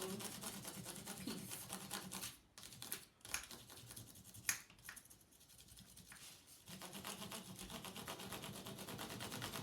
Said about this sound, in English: And now I have the blue crayon. I'm going to color my other airplane piece.